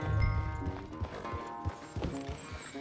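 Horse hooves clopping at a slow walk in the video game Red Dead Redemption 2, a few soft, uneven thuds over a quiet tonal background with no talk.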